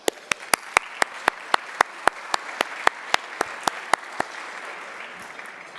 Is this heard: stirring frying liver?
no